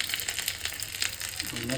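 Cumin and mustard seeds sizzle in hot oil as a tempering for radish saaru, a steady close crackle with a faint voice near the end.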